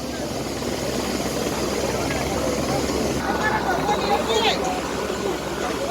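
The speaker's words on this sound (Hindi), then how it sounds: "मैंने मेरी लाइफ में पहली बार हेलीपैड देखा है और हेलीकॉप्टर को इतने पास से देखा है।" Helicopter at the Kedarnath helipad, a steady close rotor and engine roar running throughout, with people talking over it.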